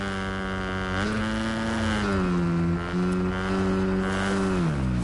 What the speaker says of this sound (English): The motorbike's so fucking loud.